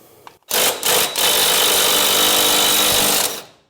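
An impact wrench hammers at the crank pulley nut on a Toyota MR2 SW20 turbo, one loud, harsh continuous rattling burst after a couple of brief blips, then stopping abruptly.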